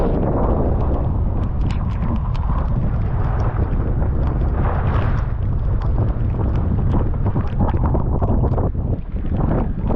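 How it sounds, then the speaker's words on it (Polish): Stormy weather at sea off the Maldives, with rain and big waves: a loud, continuous roar of wind and churning water buffets the microphone throughout, with no voices. "Deszcz, fale, sztorm."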